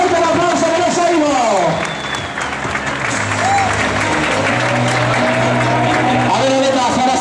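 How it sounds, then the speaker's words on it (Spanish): Crowd applause at the start of a neighbourhood running race in Vigo, steady clapping filling the clip at close range, with a voice and music mixed in. "Fuerte el aplauso que les oigo."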